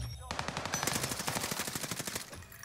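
Rapid automatic gunfire in the shooter Call of Duty, a fast continuous burst of shots at moderate distance, fairly faint with no talking over it.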